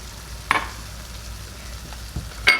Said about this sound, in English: And I'm going to just kind of stir that in.